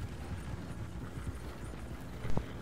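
Horse-drawn wagons clip-clop along in Red Dead Redemption 2, a steady patter of hooves with a short louder rattle near the end, heard at moderate distance.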